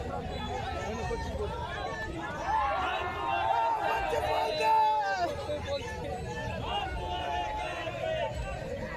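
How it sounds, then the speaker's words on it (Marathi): Jubilant crowd at an election victory procession outside a market committee, with dense chatter and cheering voices swelling and overlapping continuously throughout, many people shouting close by. "इथे मिरवणुकीचा खूप मोठा जल्लोष चालू आहे"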